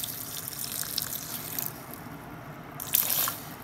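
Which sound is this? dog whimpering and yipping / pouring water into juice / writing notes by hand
pouring water into juice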